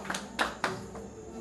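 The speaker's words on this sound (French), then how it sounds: "On applaudit encore une fois de plus, mesdames et messieurs, pour la découpe de ce gâteau." Guests at a family reception clap for the cutting of a cake, a few distinct handclaps landing in a loose rhythm at moderate volume and then thinning out.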